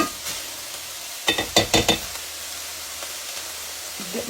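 Onions sizzle in a pan, a soft steady frying hiss with a quick cluster of scraping stirs partway through.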